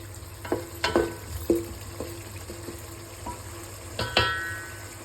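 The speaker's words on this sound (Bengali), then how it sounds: "এদিকে আমাদের মশলাটা কষিয়ে আসছে।" Masala spices sautéing in a pan for chicken biryani, a steady sizzle under scattered sharp clinks and scrapes of a spoon stirring against the pan, fairly close and with no talk.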